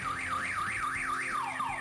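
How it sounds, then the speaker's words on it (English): A car alarm wails alone at a steady moderate level, its siren tone sweeping up and down in a regular cycle before dropping into a falling glide. "I almost thought it would have been funny if that was Omega's car alarm."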